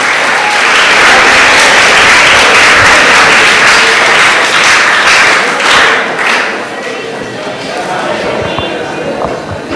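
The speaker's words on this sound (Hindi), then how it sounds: "तालियों से स्वागत है।" Loud, close applause at a school prize-giving for top-scoring students, brisk clapping that fades to softer, scattered claps with faint background voices.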